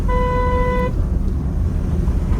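A single loud car horn blast at a cow in the road, nearly a second long, cuts over steady road and engine rumble that continues after it stops.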